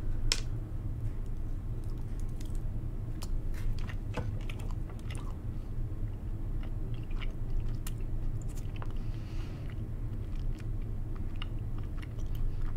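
Someone chews a bite of a Cadbury Twirl chocolate bar coated in cocoa powder, with soft, close, irregular crunching and mouth sounds over a steady low background hum, no talking.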